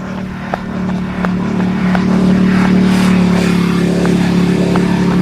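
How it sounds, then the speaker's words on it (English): A motorcycle engine rumbles steadily and then swells louder as it revs and passes nearby, with a few faint clicks in the background. "Sounds like a motorcycle."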